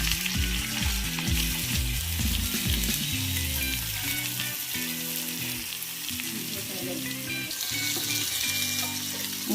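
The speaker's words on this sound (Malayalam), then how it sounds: "നെയ്യൊക്കെ ഉരുകി അതിലേക്ക് ഉള്ളി ഇട്ട് കൊടുക്കുകയാണ്." Onions frying in melted ghee in a pressure cooker for chicken biryani, a steady close sizzle and crackle with occasional stirring scrapes, continuous and fairly loud, with no talking.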